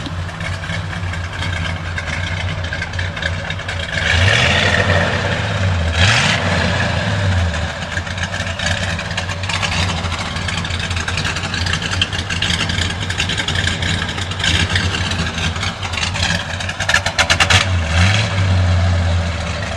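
A 1967 Plymouth Belvedere II engine idles steadily, then rises into a few moderate revs before settling back, heard close and continuous with no talk.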